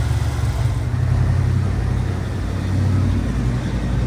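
A 1982 Ford Bronco XLT engine idles steadily after being restarted, a close, continuous low rumble with a fairly even throb and no talking over it.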